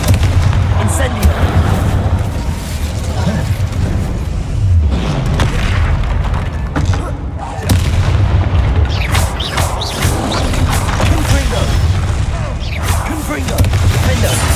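Confringo blast spell in Hogwarts Legacy, a fire-based magic attack, with repeated heavy booms and explosive bursts over dense, continuous loud combat noise throughout.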